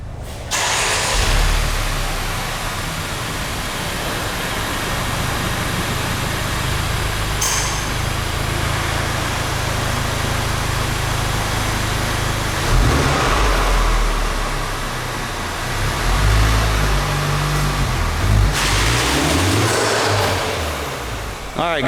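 A wrecked 2017 Honda Civic Type R under rebuild runs and drives under its own power, its engine a loud, continuous rumble with rises in revs and some rattling.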